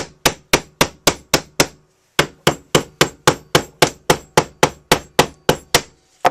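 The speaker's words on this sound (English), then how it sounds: "Another thing I like with the hammer is actually hanging or hitting the edges." A hammer strikes the edges of new wood again and again to distress it: about twenty sharp, close knocks in a fast steady rhythm, broken by one short pause.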